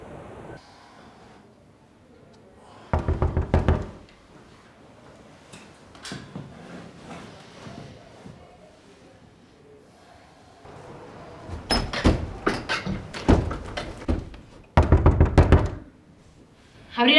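Knocks on a door come in several loud, close bursts of rapid raps, separated by quieter stretches with faint background sound.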